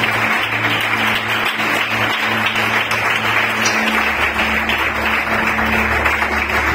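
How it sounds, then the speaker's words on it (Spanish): A church congregation at a Spanish-language service claps loudly as an offering to God, a steady, dense wash of applause over a sustained organ-like drone. "Hay una iglesia agradecida que le puede ofrecer a Dios un aplauso en calidad de ofrenda."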